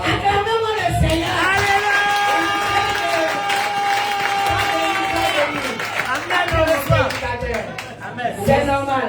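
A church congregation at a Sunday service cheers and acclaims the Lord, a loud crowd roar with shouts and clapping, while a sustained musical tone runs underneath.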